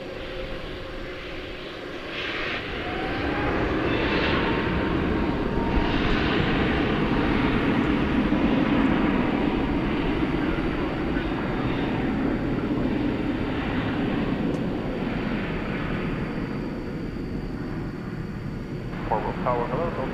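A jet airliner roars steadily near DFW Airport on a Tuesday night, a broad sustained engine rumble that swells early and holds loud for most of the stretch, with faint voices in the background.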